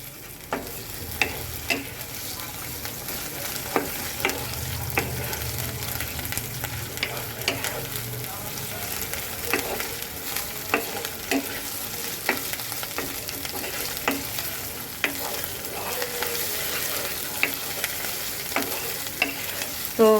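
Onion paste frying in a pan for a chicken curry, a continuous close sizzle with frequent clicks and stirring scrapes of a spoon throughout, no talking.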